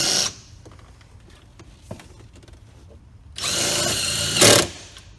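Power drill driving a screw straight into wood, a brief whir at the start, then a quiet gap with faint handling noise, then a longer louder burst of driving that rises near the end, close by.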